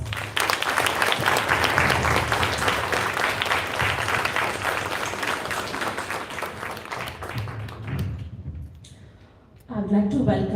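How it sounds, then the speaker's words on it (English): A conference audience breaks into sustained applause, dense clapping that runs for several seconds and slowly fades, before a voice comes back in near the end. "Ladies and gentlemen, please join me in giving this phenomenal well round of applause."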